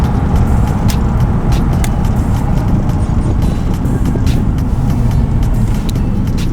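A Toyota Hilux Tiger pickup fitted with a Prospeed Shark throttle box in mode 2 accelerates, its engine a steady, dense low rumble with road noise throughout, fairly loud and close, with no voices.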